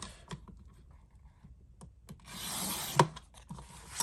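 Paper being cut into 3-by-12 strips for Halloween ticket stubs, heard as a soft rasping slide of the blade that builds to a sharper scrape and click, with light handling taps before and after.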